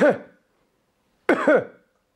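Two coughs: a short one at the start, then a longer, harsher double cough after a pause, close to the microphone.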